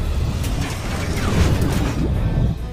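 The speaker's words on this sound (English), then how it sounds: "Deploying high altitude vacuum seal." A high-altitude vacuum seal deploying as a movie sound effect: a loud, continuous mechanical rumble with grinding, ratcheting textures and low booms sustained throughout, no speech.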